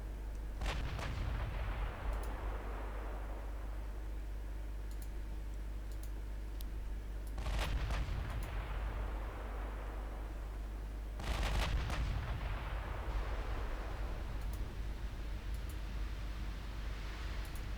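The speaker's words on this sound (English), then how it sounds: "Keep firing at the battleship" Naval guns firing at a battleship in the Ultimate Admiral Dreadnoughts game: three heavy, booming salvos spaced several seconds apart, each with a long rumbling decay over constant low background, plus faint interface clicks between them.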